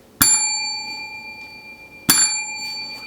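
A bright bell dings twice as a subscribe-notification sound effect, each strike sharp and clear with a long ringing tail, about two seconds apart.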